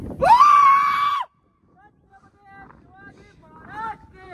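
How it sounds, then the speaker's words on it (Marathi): A loud, drawn-out shout rings out outdoors for about a second, then cuts off. Fainter, wavering tonal voice sounds trail after it, like echoes coming back from the surroundings. "भाई एको काय माहिती तुम्हाला ऐकायला येत असेल ना"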